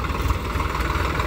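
A Swaraj 744 XT tractor engine idles at low revs, around 600 to 800 RPM, with a steady, close, continuous diesel rumble and no talk over it.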